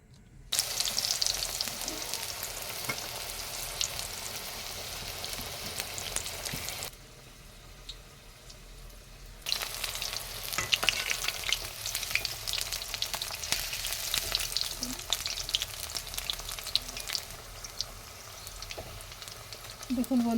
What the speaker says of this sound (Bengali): এবার তেলটা গরম হয়ে গেছে, এরপর পকোড়াগুলো ছেড়ে দেব।